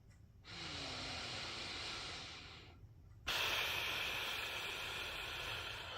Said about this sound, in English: I sound like I'm breathing for Lamaze.